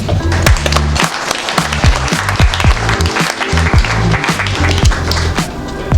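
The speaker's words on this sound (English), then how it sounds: "So let's give yourself a warm round of applause." Applause at a Filipino community meeting with Alberta ministers in an Edmonton restaurant, close and sharp, with individual loud claps standing out over a low tonal hum.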